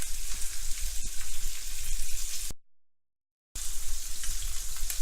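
Chicken pieces searing in a hot pan for a Basque-style French chicken stew, a loud, dense crackling sizzle with a brief silent break in the middle before the frying resumes at the same intensity.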